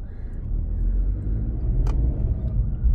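Car cruising on a busy highway in heavy Easter Sunday traffic, a steady low road rumble and tire roar filling the cabin, continuous and fairly loud with a brief passing hiss midway.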